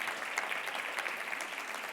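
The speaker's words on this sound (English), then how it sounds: "just by round of applause, how great is it to be in Orlando" An audience in Orlando bursts into brief, lively applause, a thick burst of many hands clapping at once that stays steady and close for a couple of seconds.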